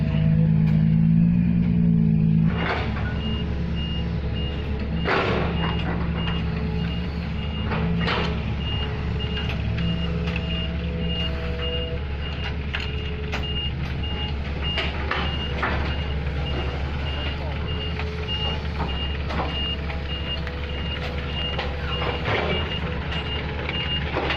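An NPR 150 truck hauling laterite soil idles with a low engine rumble while its reversing alarm beeps at a steady, repeating pace, with occasional knocks and clatter around it.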